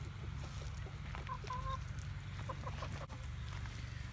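An Australorp chicken clucks softly in an outdoor coop, a few short, close clucks over a steady low background hum.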